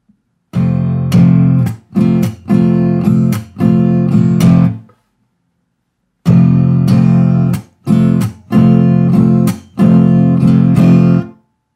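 Guitar strums a sequence of chords in short, ringing bursts with brief gaps, a pause midway, then the progression repeats.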